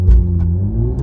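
A Toyota GR Supra 3.0 makes a launch-control start with wheel spin: a close, heavy low engine roar and rumble that rises briefly in a short burst.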